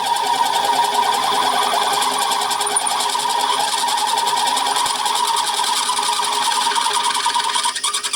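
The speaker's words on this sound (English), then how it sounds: "That's a better drill." A drill on a milling machine running steadily through metal while making vise clamps in a machine shop, a continuous whining buzz held at even loudness for several seconds, close by and alone.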